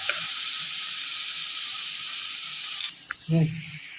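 Onions with turmeric and salt sizzle steadily in a pan for a vanjaram (seer fish) curry, a close, continuous frying hiss that cuts off near the end, followed by a few brief stirring knocks.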